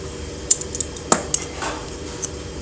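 Metal sewing scissors trim excess cloth from a simple baby top: a handful of sharp, light metallic snips and clicks at irregular intervals, close by, over a soft steady room hiss.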